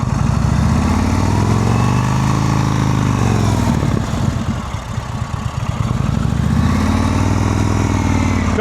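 A motorcycle ridden slowly in an advanced slow-speed practice session in Ohio, its engine loud and near, pitch sinking and rising as the rider brakes and eases off, no talk.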